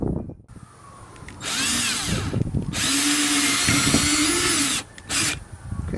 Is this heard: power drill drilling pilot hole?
yes